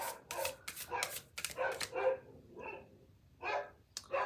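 Several dogs bark in a run of sharp, loud yaps and bow-wows that come in quick bursts, with brief whimpering yips between them and short pauses near the end.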